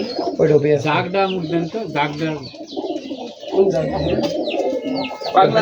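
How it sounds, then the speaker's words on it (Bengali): Rajshahi Giribaz pigeons coo in a loft, several birds close by with repeated throaty rolling coos and some chirps overlapping, loud and busy throughout. "এই যে কবুতর,"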